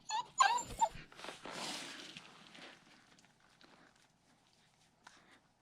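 Teeter the dog whimpers and yips in a quick, high cluster near the start, followed by shuffling movement and faint rustling that fades toward the end.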